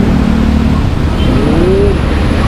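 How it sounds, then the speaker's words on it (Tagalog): Busy road traffic heard loud and close, with a continuous engine rumble, a vehicle revving and a low drone throughout. "Yan ang traffic. Yung busy ang kalsada ngayon"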